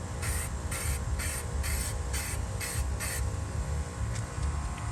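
Rattle can spraying a light first coat of paint on a Mazdaspeed 3 part, eight or nine short even hissing bursts in a steady rhythm over a low background rumble.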